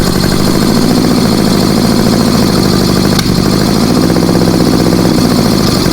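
An old Honda Goldwing motorcycle engine runs close by at a steady idle, loud and continuous with a rough pulsing rumble and a brief stumble midway, no voices over it.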